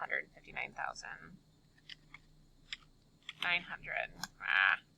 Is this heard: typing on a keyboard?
yes